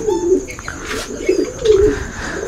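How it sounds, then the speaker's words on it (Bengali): Diamond doves cooing close by, soft rolling coos repeating in a steady rhythm over about two and a half seconds, with faint background noise and no talking. "এই যে আমার এখানে আর কয়েকজোড়া ঘুঘু পাখি আছে দেখেন, ডায়মন্ড ডব"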